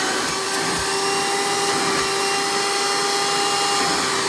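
A grey-body Hoover Encore Supreme hard-bag direct-air vacuum cleaner runs steadily, a loud continuous whirring hum with a high whine and no talking.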